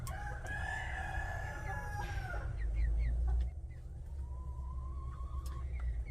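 A backyard hen calls near a nest spot, with short clucks and a drawn-out crow-like call over low background rumble, moderately close and no voices.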